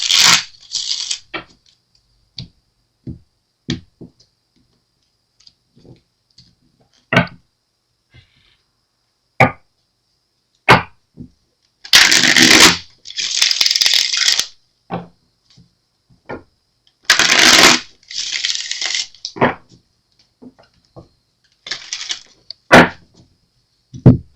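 A deck of cards is shuffled in short, crisp bursts with quick riffles and taps, separated by pauses of near silence.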